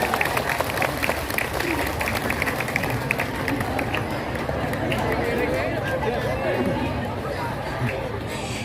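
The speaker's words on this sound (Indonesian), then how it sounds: "Tepuk tangan dulu dong." Audience applause at a santri gathering in Masjid Jami Al Ishlah, Perum Bukit Tiara, a dense steady wash of many hands clapping with crowd murmur mixed in, continuing evenly for several seconds.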